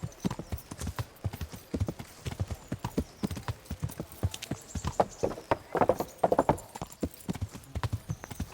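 Horse hooves clip-clop in a steady walking rhythm in the video game Kingdom Come: Deliverance, close and clear, with a brief whinny-like sound partway through and faint background ambience.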